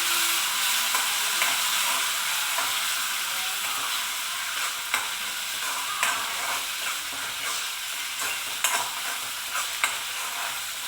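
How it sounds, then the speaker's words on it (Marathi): Tomato puree frying in a pan, a loud steady sizzle with frequent scraping stirs and sharp spatula clicks against the metal all the way through. "आता याच्यामध्ये आपण टोमॅटोची प्युरी टाकते मी. आता याच्यात छान असं परतून घ्यायचं."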